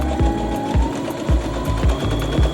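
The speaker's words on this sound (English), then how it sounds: "I'm now going to top stitch the center back seam down just to secure it and make sure this is never ever going to rip open" A sewing machine top stitching the center back seam of a pink gingham smock dress, with loud, close rhythmic needle thumps repeating in quick bursts over a steady motor hum.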